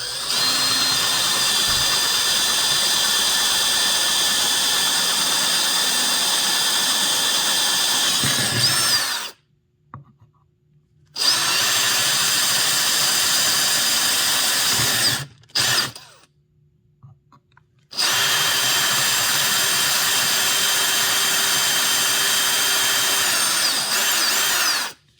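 A power drill with a 7/32-inch HSS bit whines steadily as it bores into hickory, running in three long bursts separated by short pauses.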